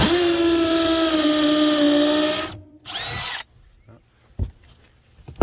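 A power drill whines steadily into wood for a couple of seconds, stops, spins briefly again, then falls quiet apart from faint knocks.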